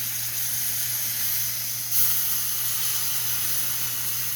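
Batter being poured slowly, a little at a time, into a hot pan for a banana-and-bread breakfast dish, giving a steady close hiss and sizzle with a slight rise partway through.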